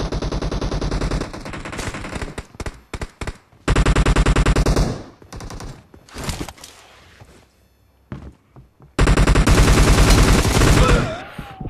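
Rapid bursts of automatic gunfire in the mobile battle royale game PUBG Mobile, loud and close, firing in several long sustained volleys broken by short gaps and a few single shots.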